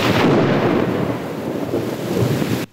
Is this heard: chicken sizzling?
no